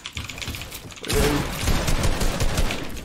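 Gunfire during a Fortnite build fight: rapid, dense bursts of shots that grow louder and more continuous after the first second, close and harsh, with keyboard-like clicking underneath.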